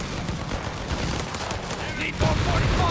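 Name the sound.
aircraft strafing gunfire in Company of Heroes 3 video game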